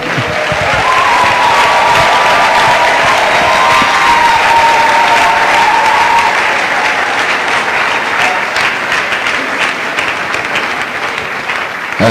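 Sustained applause from an audience at a French-language church sermon on lasting marriages, loud and steady clapping filling the whole stretch with a faint murmur of the crowd underneath.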